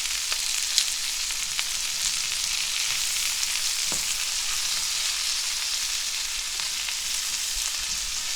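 Onions frying in olive oil, a steady bright sizzle that holds evenly from start to finish with a few faint pops and crackles, close and alone with no voices.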